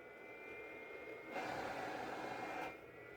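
A laptop vacuum cooler's steady electric hum gives way to a stronger whoosh of blowing air for about a second, then drops back to the quieter hum.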